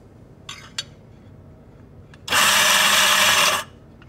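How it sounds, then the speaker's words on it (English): A Quamar M80e coffee grinder grinding beans for about a second, a loud steady high whirring burst after two faint clicks, close and alone. "we're going to do is turn it on. And we're only going to grind for a couple seconds and then turn it off"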